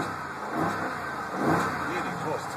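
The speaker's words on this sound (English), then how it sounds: "Give it a little rev, bro. Give it a little rev." A 2012 Jeep Grand Cherokee SRT8 engine revs in a few swelling bursts, moderately close, with people talking faintly around it.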